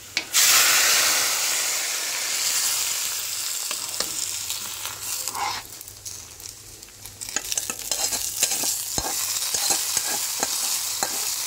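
Spices for a vegetarian curry tempering in hot oil, a sharp burst of sizzling at the start that settles into a steady hiss, with scraping and stirring clicks in the pan.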